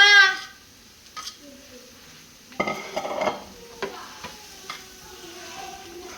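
Potatoes being stirred into a curry in a pan: quiet scraping strokes and light spoon taps spread over a few seconds, with a brief louder burst of stirring in the middle and a faint voice at the very start.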